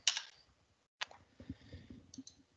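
Typing on a computer keyboard to exit a database program: a few sharp, close key clicks separated by short pauses, isolated and quiet.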